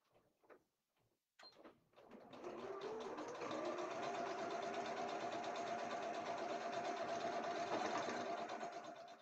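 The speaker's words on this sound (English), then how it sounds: "We're just going to sew that closed next to the opening here, and then that finishes that off very tidily." A sewing machine runs steadily, stitching a fabric basket closed near its edge, after a few brief clicks and handling knocks; the continuous close mechanical whir holds for about seven seconds without talk.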